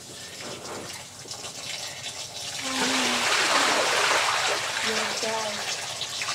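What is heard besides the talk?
shower water running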